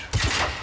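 A short, loud burst of rapid gunfire from the video game Generation Zero, several close shots fired in quick succession.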